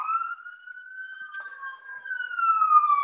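An emergency siren wails outside during an indoor lecture, a clear rising and falling tone that drifts gradually, heard alone with no talk over it.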